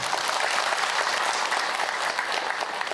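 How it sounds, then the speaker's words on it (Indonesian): A crowd at a religious lecture by an Islamic preacher breaks into applause, a dense, even burst of clapping filling the moment without speech. "Tepuk tangan Bu untuk Ahilman."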